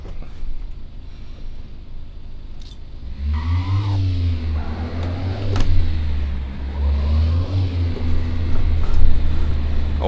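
A car drifting in the City Car Driving game, loud engine revs rising and falling continuously with a steady low drone and tire noise, no voices.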